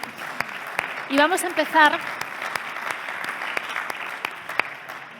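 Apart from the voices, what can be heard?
audience applause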